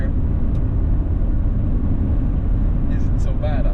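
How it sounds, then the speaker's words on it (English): Loud, constant low rumble of road noise inside a moving Fiat 124 cabin, a dense tire and wind drone with no break across the whole stretch. "So as you do, road noise right here"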